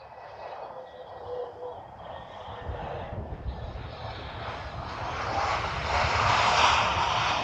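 Transavia airliner landing at Schiphol, a steady jet roar that swells gradually toward the end and stays continuous and moderately loud, with faint background voices.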